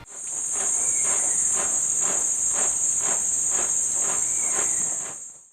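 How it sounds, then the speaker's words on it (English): Drumming wasps beat their wings in unison: a steady, shrill insect drone with rhythmic pulses about two per second, continuous and close. "as a clan and all in unison, beat their wings in the same rhythm, producing an eerie sound"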